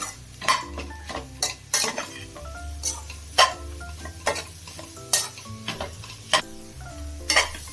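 Ginger garlic paste sautéing in a pan for chicken fried rice, with a spoon scraping and clanking against the metal in repeated strokes over a soft sizzle, no voices.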